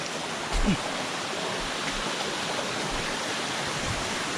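A steady, broadband rush of falling water from Chan Ta Then Waterfall in Chonburi, Thailand, fills the forest background, constant and fairly faint, with a brief soft thump near the start.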